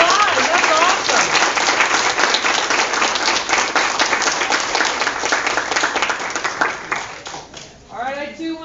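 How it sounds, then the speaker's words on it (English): Audience applause at a legislative update event, loud, dense clapping that runs steadily for about seven seconds and then thins out as a voice begins talking near the end. "Let's give a round of applause."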